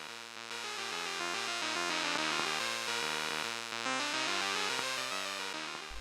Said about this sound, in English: the Toastrack can also give you sounds from the buzzer